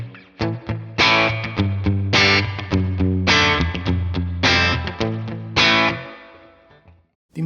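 Guitar played through a Tone King Imperial tri-tube preamp with the reverb turned down, giving punchy strummed chords in a steady rhythm with shorter tails, loud and close, with no talk.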